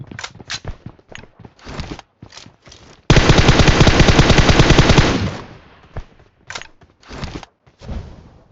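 Automatic gunfire in the mobile battle-royale game PUBG Mobile, played on an iPad Pro 2020: a sustained loud burst of rapid shots lasting about two seconds, with single sharp shots scattered before and after.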